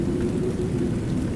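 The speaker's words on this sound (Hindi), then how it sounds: "ये बस आंधी तूफान की आवाज है।" A storm and thunder sound effect for a horror story: a continuous, heavy low rumble like driving wind and distant thunder, loud and steady with no pauses.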